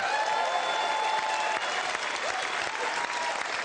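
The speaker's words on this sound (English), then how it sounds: "And maybe we just give them a round of applause to say thank you." Studio audience on a TV chat show giving a round of applause, a dense, sustained burst of clapping at steady volume from start to finish.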